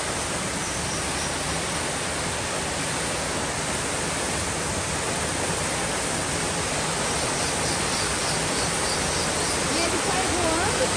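A waterfall at São Thomé das Letras rushes in a steady, dense broadband roar that fills the whole stretch, loud and constant with no breaks.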